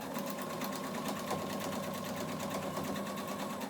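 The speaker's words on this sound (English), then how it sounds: "need to start on the inside line and then sew all the way off" A sewing machine stitches quilt pieces for a New York Beauty quilt, a steady rapid whirring hum, close and continuous without pause.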